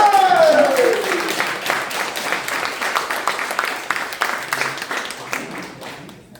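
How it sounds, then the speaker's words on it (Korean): An audience at a corporate event claps warmly as a company chairman is welcomed, the applause starting strong after a brief tone and gradually thinning out. "큰 박수!"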